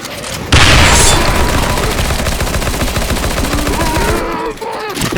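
Sustained rapid automatic gunfire fills nearly the whole stretch in a Counter-Strike: Global Offensive match, loud and close, with a quieter pause near the end.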